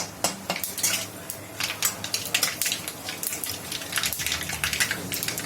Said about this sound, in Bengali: এইবার সর্ষেগুলো, কালো সর্ষে ভেতরে দিয়ে দিলাম